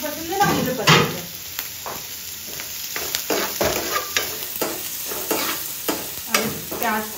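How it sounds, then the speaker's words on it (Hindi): Onions and green chillies fry with popping mustard seeds in hot oil, a loud close sizzle broken by repeated stirring scrapes and clatter throughout, with no one talking. "राई डालते ही हम डाल देंगे इसमें प्याज हरी मिर्ची।"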